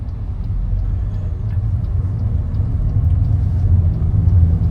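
Toyota Innova Hycross ZX hybrid with a 2-liter engine, 188 horsepower and e-CVT pulling away, heard from inside as a low steady rumble of engine and road noise that swells slightly, no voices.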